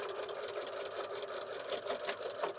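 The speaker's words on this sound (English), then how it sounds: "I'm going to put my extra finger right on where that ribbon is to hold it in place as I sew across" A domestic sewing machine stitches across ribbon on a fabric pillow sleeve, giving a steady, fast, rhythmic mechanical chatter that runs continuously and close up with no talking.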